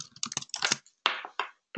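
Quick bursts of typing on a computer keyboard while editing a Confluence page, close and clear: clusters of clicky keystrokes separated by short pauses, no voices.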